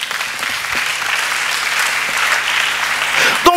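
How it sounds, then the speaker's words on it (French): A church congregation bursts into sustained applause for the Lord, a dense roomful of clapping lasting several seconds with no speech over it. "Acclamons le Seigneur."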